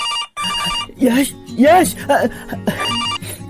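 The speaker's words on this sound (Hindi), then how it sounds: "अरे कब से फोन बज रहा है, फोन तो उठा लेते।" A mobile phone ringtone plays in repeating bursts while someone speaks over it, calling out a name; the electronic ring is clear and close.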